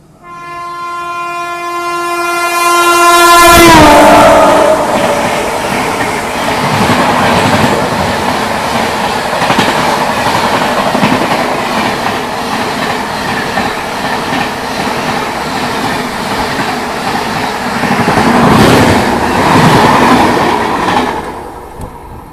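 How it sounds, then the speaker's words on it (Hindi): The KSR Bengaluru–Hazrat Nizamuddin Rajdhani Express sounds a loud, sustained horn as it approaches, then thunders past close by with continuous rumble and wheel clatter that surges again near the end. "ये आ रही है अभी KSR बेंगलुरु हजरत निज़ामुद्दीन राजधानी एक्सप्रेस अपनी LTD Haridwar AC superfast express को ओवरटेक करने के लिए"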